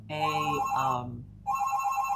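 A telephone rings in a radio studio during a live broadcast: two bright electronic ring bursts separated by a short pause, fairly clear and close, with no talk over them.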